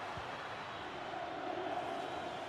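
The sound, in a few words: stadium crowd in a football video game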